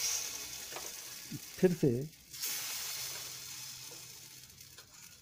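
Battered eggplant slices for crispy baingan bhaja frying in hot oil, a steady close sizzle with a brief stirring clatter and a short spoken phrase.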